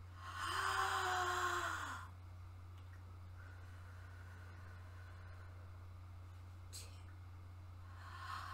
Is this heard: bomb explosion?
no